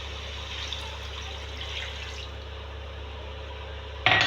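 A cup of water goes into mutton karahi in the pan, a steady, fairly faint pouring and dripping trickle throughout, with a sharp clatter at the very end.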